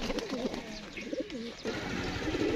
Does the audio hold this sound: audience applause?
no